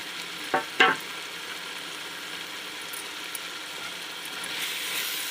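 Two quick, sharp scrapes of stirring in a pan of tomato masala with coriander and mint for bagara rice, followed by a quiet, continuous low sizzle.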